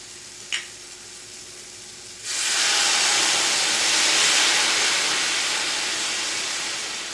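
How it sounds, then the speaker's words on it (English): Marsala wine hits a hot pan of browned mushrooms and breaks into a loud, steady sizzle that holds for several seconds as it reduces, after a quiet start with a single small knock. "So now you put at least a cup of Marsala wine, and we're going to reduce it a little."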